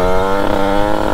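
A Rieju MRT Pro 86cc motorcycle engine, warmed up, idles steadily and loudly at close range with a dense buzzing drone, constant throughout with no revving.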